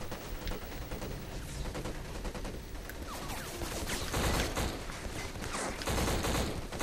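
Gunfire from a gun in the shooter game Black, with rapid automatic bursts rattling almost continuously, loud and close, and occasional mechanical clanks under the shots.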